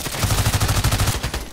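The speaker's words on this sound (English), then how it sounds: "He's shooting from the window." Rapid automatic gunfire from a window in the shooter game Contract Wars, a quick burst of about a dozen evenly spaced shots at close range, loud and punchy, lasting just over a second.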